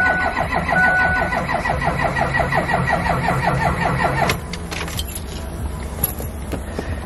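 A Ford 6.0 diesel truck engine cranks rapidly with jumper cables attached, a fast rhythmic starter whir for about four seconds before catching and settling into a rough idle, close and loud.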